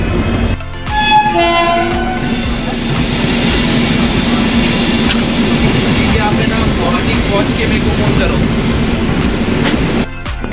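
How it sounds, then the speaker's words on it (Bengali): A Tinsukia–Bangalore Express passes close by a station in Assam, making a loud, continuous rumble of rolling wagons with a horn blast near the start, and the noise carries on steadily to the end. "এটা তিনসুকিয়া ব্যাঙ্গালোর এক্সপ্রেস ট্রেনটা গেল"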